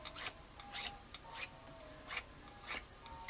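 Steady hand sanding across the fret ends of a Squier Standard series Telecaster guitar, with about a half-dozen rhythmic rasping strokes, close and fairly quiet, with no talking.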